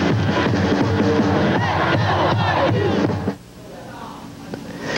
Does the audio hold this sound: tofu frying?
no